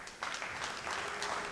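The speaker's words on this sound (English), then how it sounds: "Well, the run has reached 100, and that's what you hear the applause for." Faint, steady audience applause fills a quiet hall at the World 14.1 straight pool tournament finals, clapping for a 100-ball run.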